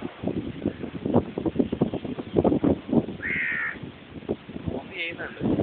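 A crow caws twice in a seaside setting over steady, fairly loud talk by people nearby, with wind in the background.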